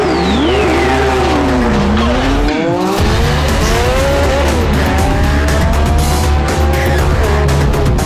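Porsche and Ferrari supercars roar loudly in a head-to-head standing mile race on a runway, engines climbing through repeated rising gear sweeps with tire squeal, close and sustained without talk.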